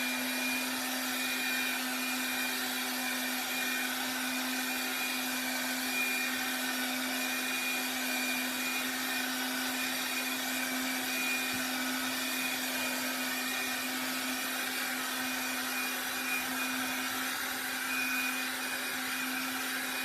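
A heat gun warming thermal ABS plastic while reshaping a costume yoke: a steady, loud, close blowing whir with a constant motor hum, unbroken for the whole stretch and with no voices.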